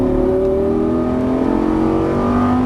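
A Lamborghini Gallardo's engine pulls hard on a race track, a loud close mechanical drone with pitch rising steadily under acceleration and no pause.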